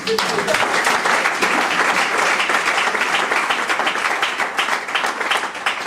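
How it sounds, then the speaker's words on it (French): An audience at a motivational coaching talk breaks into dense, sustained applause, a steady wash of many hands clapping close by, with a voice talking over it. "Je croyais qu'on devait applaudir"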